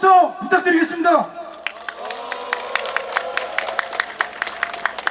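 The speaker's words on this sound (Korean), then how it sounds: "앞에 계신 지부장 동지들에게 힘찬 박수와 함성 부탁드리겠습니다" A voice speaks at first at a union workers' rally, then crowd clapping starts and builds into quick, steady rhythmic applause with some shouting mixed in.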